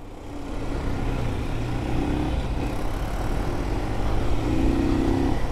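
A Honda PCX scooter rides through the streets at night, its steady engine drone blending with road and wind rumble and swelling slightly louder toward the end, with no talking.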